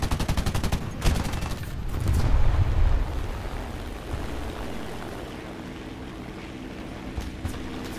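Aircraft guns in War Thunder rattle off a rapid burst of fire at ground targets, then give way to a rumbling explosion and sustained engine roar, with a few brief shots near the end.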